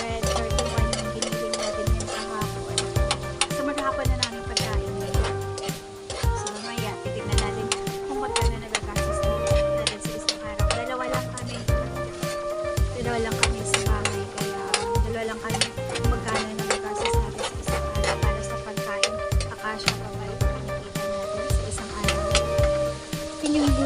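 Ground pork frying in a pan until golden brown, a continuous sizzle with scraping and clinking of a spatula stirring, close by, with people chatting over the cooking.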